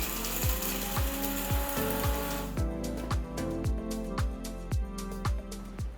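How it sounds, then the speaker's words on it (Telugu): A kitchen grinder works cooled roasted spices into fine powder, a steady loud mechanical grinding with rhythmic ratcheting pulses about twice a second, close up with no voices. "ఆరిన మసాలా దినుసుల్ని మంచి ఫైన్ పౌడర్గా రుబ్బుకోవాలి."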